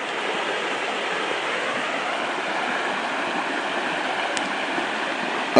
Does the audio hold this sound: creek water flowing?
yes